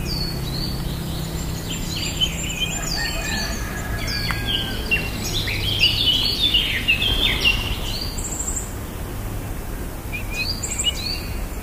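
Rescued Philippine hanging parrot (kulasisi) chick giving repeated high, thin chirping calls in short bursts over a steady low background hum.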